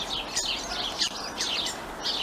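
A starling singing on a cold, sunny Christmas Eve toward sunset: a run of close, lively chirps, whistles and rapid twittering phrases over a faint background hum.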